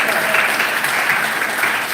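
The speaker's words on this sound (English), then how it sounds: "let's give another round of applause to them." Audience applause fills the room after a live service, a steady dense clapping from many hands that stays loud and even throughout with no talk over it.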